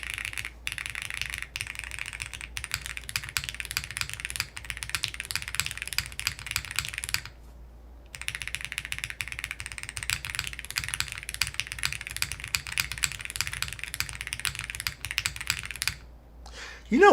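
Typing on a custom-built mechanical keyboard fitted with foam: a dense, steady stream of close, muted clacking keystrokes with brief pauses, over a faint background hum, and no speech.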